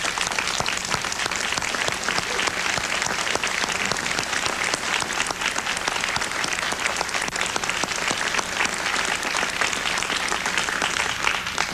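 Sustained applause from a seated conference audience honouring a colleague, a dense, steady wash of clapping that holds at an even level throughout with no voices breaking through.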